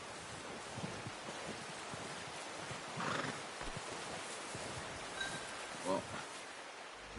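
A horse whinnies in a video game amid steady rain-like background noise, with faint hoof clip-clops and a voice under the mix.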